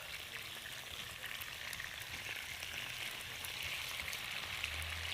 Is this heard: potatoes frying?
yes